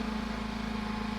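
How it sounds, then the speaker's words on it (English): A small portable generator runs with a steady, even hum and constant engine drone, heard alone at close range without any voices. "I think you can hear the little generator."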